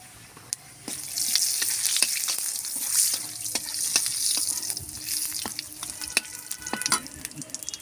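Bay leaves and cumin seeds frying in hot mustard oil give off a steady crackling sizzle with scattered sharp pops, starting after a brief quiet moment and continuing close and even throughout.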